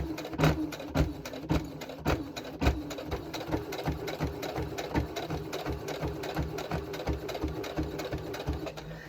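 Sewing machine with a dulling needle punching through many layers of fabric, a steady rapid rhythm of close mechanical stitching strokes with a few heavier thumps, no voices.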